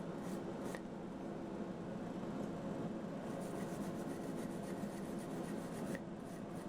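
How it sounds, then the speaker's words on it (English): Steady scratchy rubbing of a wire brush scrubbing metal, a continuous rasping texture with occasional sharper scrapes, fairly close. "Wire brushing, get rid of the loose scale."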